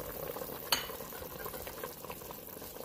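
Ginger tossed into a frying pan of caramelized pork belly sizzles steadily and softly, with a brief sharp clatter near the start.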